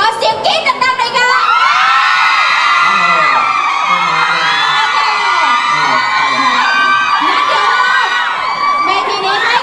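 A large crowd at an expo stage show screams and cheers nonstop, loud and shrill, with high voices shrieking and whooping throughout.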